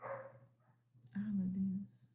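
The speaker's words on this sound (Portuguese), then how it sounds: "Esse cachorro." A dog barks nearby indoors, one short bark and then a longer whining yelp, heard behind and between a person's talking.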